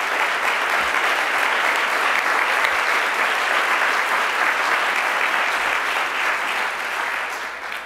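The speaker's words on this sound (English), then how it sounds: "if I could ask them to stand and be applauded" Sustained, dense applause from an audience at a literary awards ceremony, steady and loud throughout, with no speech and a slight fade at the end.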